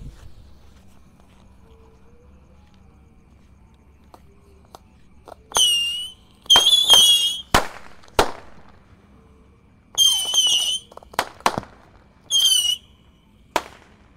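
A 25-shot Patriot Missile firework cake launches in a series at night: whistling shots rise one after another, with sharp pops and cracks in between and quiet pauses, heard from a moderate distance.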